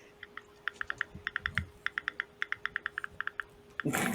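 Rapid keyboard typing, a steady run of crisp key clicks with short pauses, close by, ending in a sudden burst of broadband noise.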